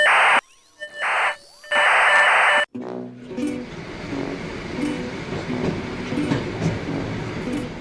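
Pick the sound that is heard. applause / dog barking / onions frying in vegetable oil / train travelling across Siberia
train travelling across Siberia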